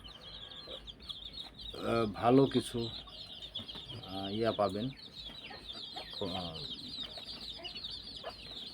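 Farm chickens let out to roam make a few close, clear bursts of clucking over a quiet outdoor background, with a person speaking briefly.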